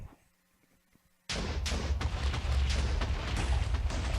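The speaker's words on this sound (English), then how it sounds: "Alright, bombs." Bombs from the More Explosives mod in Minecraft go off after a quiet moment, a sudden loud burst of booming, crackling explosions that keeps roaring without a break.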